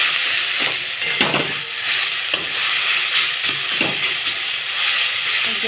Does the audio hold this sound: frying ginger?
yes